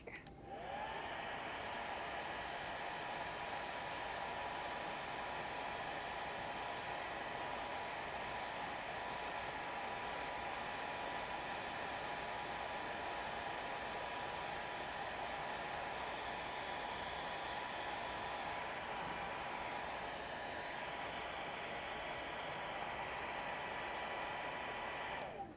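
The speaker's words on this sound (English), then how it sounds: "I'm gonna blow dry this for just a second and I'll be right back." A hair dryer blows steadily and close for about 25 seconds, drying freshly brushed chalk paint on a small DIY bathroom storage piece, a constant airy roar with no talk.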